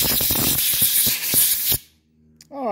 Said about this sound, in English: we'll go ahead and hit this with some compressed air